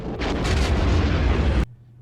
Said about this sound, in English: The explosion effect,